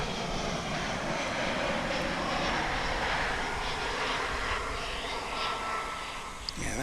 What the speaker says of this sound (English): And incoming, we've got American Flight 2221, now arriving from